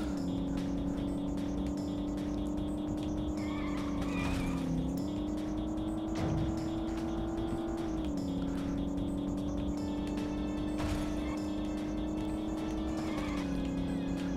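Car engines from the racing video game Midtown Madness 2 drone steadily throughout, a loud sustained motor tone that shifts pitch as the cars rev and change gear, with occasional passing whooshes.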